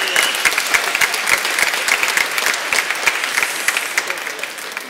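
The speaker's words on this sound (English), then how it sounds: "So as the women applaud," A church congregation applauds in a sustained, even wash of dense clapping that holds steady and fairly loud throughout, with no talking over it.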